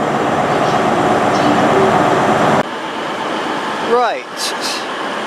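Class 43 HST power car 43148 passes through Reading station on the Great Western Main Line, a loud sustained rumble and roar that cuts off abruptly, followed by quieter station ambience with a brief voice and a squeal.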